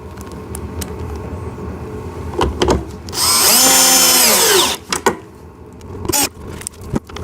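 Power drill driving screws into a ride-on RC car, one sustained whirring burst of about a second and a half with rising and falling pitch, bracketed by short clicks and handling knocks, close up with no speech.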